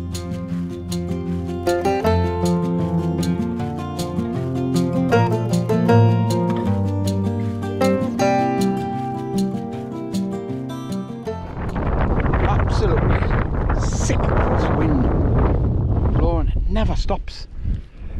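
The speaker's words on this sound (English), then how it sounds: "the wind is picking up" Strong wind buffets the microphone at a rainy mountainside wild camp in the Lake District, a loud roaring rush that takes over the second half after a stretch of music.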